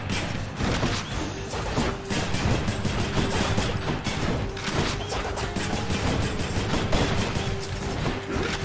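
The Exagryph, the Adamant Rail, a machine gun in the game Hades, fires in a dense continuous burst of rapid shots over steady game sound, loud and unbroken throughout.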